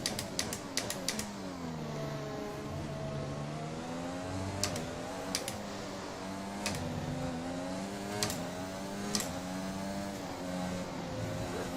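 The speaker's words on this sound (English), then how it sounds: "Still over-revving the gears." F1 2021 video game car engine over-revving in the gears, a high rising and falling whine with repeated gear-shift clicks and bursts throughout, steady and close without talk.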